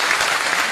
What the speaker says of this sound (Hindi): मैं आप सबसे निवेदन करूंगा कि जोरदार तालियों के साथ उनका स्वागत किया जाए।